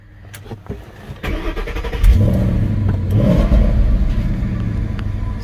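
A 2011 Ford Mustang GT California Special with a 6-speed manual cranks, catches and settles into a loud, close, rumbling idle, with a quick rev after start-up and no speech.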